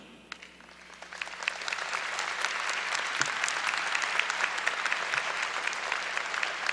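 Graduates and guests at a law school commencement applaud, crisp individual claps building into sustained, moderately distant applause filling a large hall.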